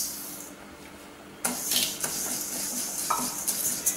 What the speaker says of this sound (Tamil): இந்த பாசிப்பருப்பை வெறும் கடாயில் நம்ம ரோஸ்ட் பண்ணிக்க போகிறோம்.